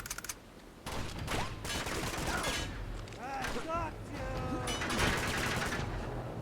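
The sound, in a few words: Dragunov sniper rifle fire in the video game Uncharted 2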